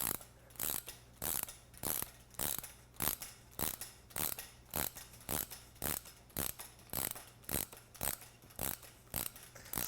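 A ratchet tightens motorcycle fork bolts during a fork seal job, producing close, crisp rapid clicking in regular repeated bursts with brief pauses between strokes.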